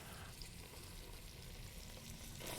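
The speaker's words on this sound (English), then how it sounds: "And I give it a good stir." Tomato paste frying in a pan and being stirred, a steady close hiss and sizzle with a soft scraping texture, with no one talking.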